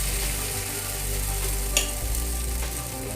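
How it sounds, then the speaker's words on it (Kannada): Drumstick leaf masala dosa cooks in a little oil on a hot pan, giving a steady, close, dense sizzle that runs without a break and without any voices. "ಕಾವಲ್ದಿಕ್ಕ ಕೊಂಚ ಎಣ್ಣೆ ಪಾಡ್ಗ ಮತ್ತು ದೋಸೆ ಬೇಯ್ಪುಗ"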